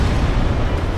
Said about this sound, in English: Oh, and the explosion again.